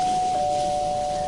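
A doorbell rings as a sound effect in a scary story: one steady, unbroken electronic tone that holds evenly for the whole moment over a faint hiss in the background.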